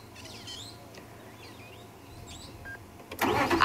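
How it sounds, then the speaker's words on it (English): Parrots call at sunset in the Sabi Sand bush of South Africa: scattered faint chirps and squawks over a quiet outdoor hush, ending in a louder, busier burst. "I can hear parrots."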